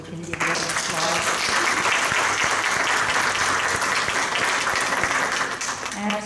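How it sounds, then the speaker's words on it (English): A church congregation applauds the musicians after a performance, steady full clapping that swells quickly and holds, with faint voices and a low background tone underneath. "I think we can give them applause."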